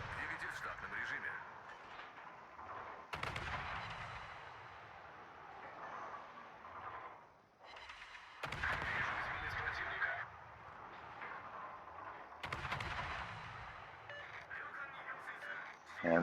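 Ship guns fire shells from a Neustrashimy destroyer in a naval warfare video game, heard as three or four loud, sharp salvos spaced several seconds apart over a constant engine and sea rumble, with a voice talking in the background.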